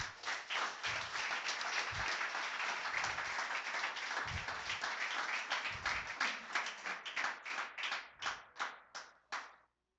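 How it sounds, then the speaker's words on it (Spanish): A church congregation claps and applauds loudly for the Lord during a sermon, a dense sustained roar of hands that thins toward the end into separate, rhythmic claps before stopping. "Dale un fuerte aplauso al Señor."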